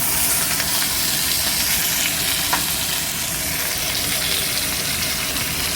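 Food searing in a hot pan for an Easter main course, a steady dense sizzle that holds loud and even throughout, with one brief sharper crackle partway through.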